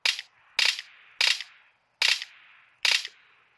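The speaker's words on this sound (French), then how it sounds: "Oh, je tire trop loin." Gunfire in the PUBG Mobile video game, five sharp, loud shots fired one at a time at roughly even intervals, each followed by a short ringing tail, with no talking.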